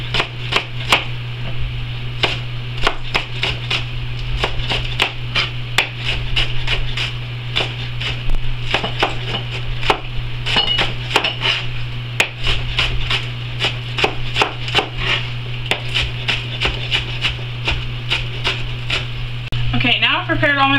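Vegetables sliced thin with a knife on a cutting board at home, producing a rapid, steady run of crisp chopping taps over a constant low hum, with no talk.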